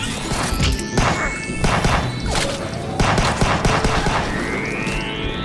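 Gunfire in a pixel-art side-scrolling video game, with repeated sharp blasts and crashing impacts in an uneven rhythm over rising synthetic sweeps, loud and up front with no talk.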